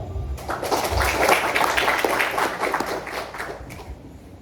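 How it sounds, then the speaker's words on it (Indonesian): Seminar audience applauding the speaker at a civil engineering flood seminar, a dense, steady burst of many hands clapping that fades toward the end. "Kita beri aplaus kepada Bapak."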